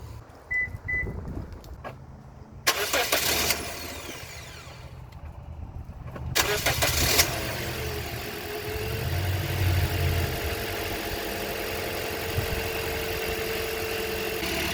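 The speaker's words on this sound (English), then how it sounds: "and I'll turn on the car." A 2010 Toyota Corolla engine, just fitted with a new alternator, cranks and catches in two short bursts, then settles into a low, steady idle heard close and fairly quiet.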